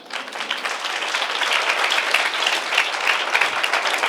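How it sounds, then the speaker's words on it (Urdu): An audience at a sermon gives a burst of applause, many hands clapping loudly and steadily for several seconds. "آپ تالی بجا سکتے ہیں"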